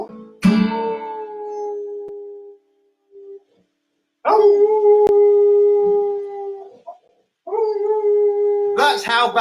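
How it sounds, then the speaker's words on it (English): A pet dog howls in a long, sustained wail, pausing and then rising again in drawn-out, voice-like tones with some yipping at the end, loud and close with no talk over it. "Listen to my dog."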